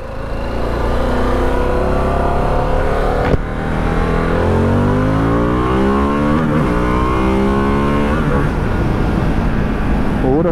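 Harley-Davidson Pan America 1250 motorcycle accelerating hard, engine note climbing steadily through gears with rising, rich harmonic tones, loud and close, continuous throughout with wind and road noise beneath.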